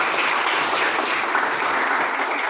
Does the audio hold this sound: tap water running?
no